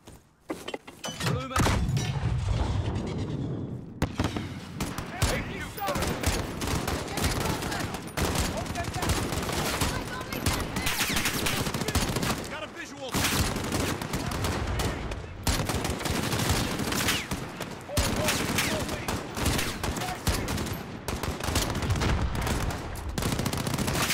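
Dense, sustained gunfire from a Call of Duty: Modern Warfare battle, with rapid automatic bursts and heavy shots firing almost without pause at close range, loud throughout, mixed with a few faint voices.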